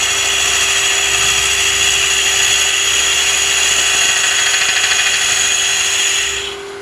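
A large, aggressive hollowing bit cuts wood inside a hollow form on the lathe, a loud, steady whirring scrape with a constant high tone that runs unbroken before cutting off abruptly at the end.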